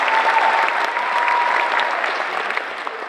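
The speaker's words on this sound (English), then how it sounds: "let's give her a round of applause" An audience at a high school honors night claps together in sustained, dense applause that holds steady and fades slightly toward the end, with no speech over it.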